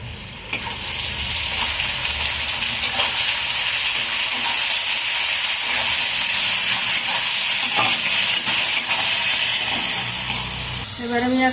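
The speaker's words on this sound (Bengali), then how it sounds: "তাহলে পেঁয়াজটা তাড়াতাড়ি ভাজা হয়ে যাবে।" Chopped onions with salt fry in a pan with a loud, dense, continuous sizzle and hiss, broken only by a short quieter moment at the very start.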